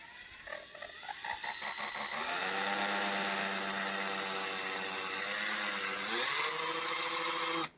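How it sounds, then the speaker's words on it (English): A power drill drives screws at an angle into wood, its motor whine rising and settling in pitch over several seconds of continuous, fairly faint running, with no talking. "Drilling, yes, it's fairly simple."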